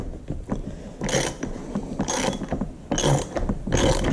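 A ratchet with a 5/8 inch socket tightens a nut on a lock washer while the engine is mated to the transmission of an IHC Farmall Super MTA tractor, giving four short bursts of rapid clicking close up.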